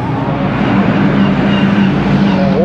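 BMW race car during the Nürburgring 24-hour race near the Breitscheid and Adenauer Forst camping areas, a loud, continuous engine roar passing close by with a steady droning tone and no talk.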